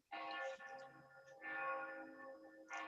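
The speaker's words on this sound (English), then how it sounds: "I'm in Salzburg, so the bells never stop ever." Church bells in Salzburg ring in overlapping, sustained tones that swell and fade in repeated strokes, heard from some distance with no one speaking.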